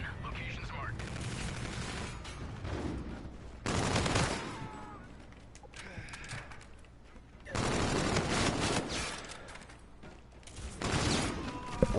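Bursts of gunfire from Call of Duty: Infinite Warfare, loud rattling volleys separated by quieter gaps, with a voice talking in between.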